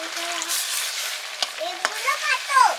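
Spinach cooking in a pan with a little water added, a close sizzle and bubbling hiss marked by a couple of sharp spoon clicks and crackles.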